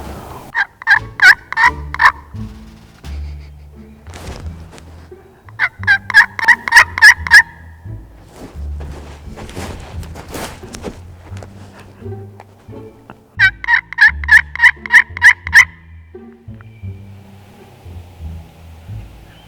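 A wild turkey gobbles on private land during turkey season, loud and close, in three rapid rattling bursts spaced several seconds apart, with quieter rustling and low rumbling between them.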